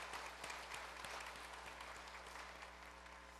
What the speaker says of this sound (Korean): 우리 찬양대 위해서 한번 박수 한번 하십시오